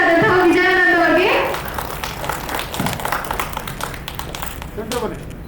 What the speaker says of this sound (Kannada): ಜೋರಾದ ಚಪ್ಪಾಳೆ ಬರಲಿ ನಮ್ಮ ನಿರ್ದೇಶಕರಾದಂತಹ ವಿಜಯ್ ಆನಂದ್ ಅವರಿಗೆ